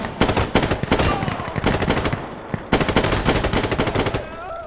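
Rapid automatic gunfire from the video game Insurgency Sandstorm, loud and close, rattles out in dense bursts with short pauses between volleys.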